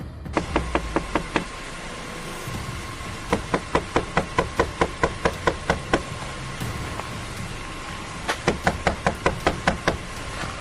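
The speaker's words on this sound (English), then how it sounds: "The officer at first tried to wake her up by knocking" A police officer raps knuckles on a parked car's window with a sleeping driver inside, giving sharp close knocks in quick bursts of four to eight separated by pauses, over a steady background hum.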